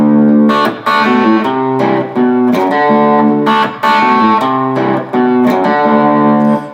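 A loud, distorted electric guitar in open D tuning plays a repeating riff on the first and second strings, with rhythmic note changes and brief breaks between phrases.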